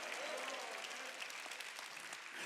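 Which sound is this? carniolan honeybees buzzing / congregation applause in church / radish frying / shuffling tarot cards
congregation applause in church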